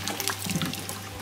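Water splashes and patters steadily as garden plants are watered, a close continuous spray with no talk.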